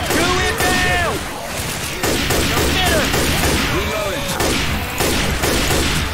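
Hunting rifle shots in Left 4 Dead 2 ring out among chaotic game noise. Several sharp cracks are spread across a busy, loud mix, and a voice talks over the action.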